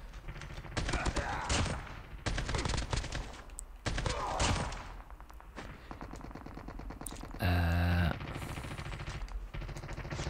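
Rapid automatic gunfire from a bouncy-recoil gun in Call of Duty Mobile battle royale, loud bursts repeating in several long runs with a brief sharp tonal effect near the end, game sounds continuing between bursts.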